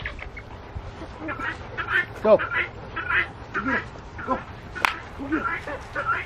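Ducks on a farm with chickens quack in repeated short, nasal bursts at mid distance, scattered irregularly over steady background noise, with some chatter mixed in.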